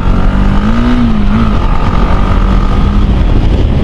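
A 2017 motorcycle fitted with an aftermarket barrel exhaust idles and revs in a loud, steady drone with slight pitch swells, close by and with no talk over it.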